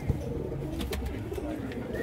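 Pigeons coo softly and repeatedly, close by, at a highflyer pigeon sale in Lahore, with faint background noise and occasional rustling.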